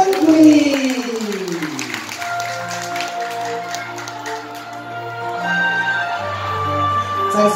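A bar audience applauds after a live song by a Taiwanese singer, moderate clapping mixed with lingering music tones and a voice speaking over the top.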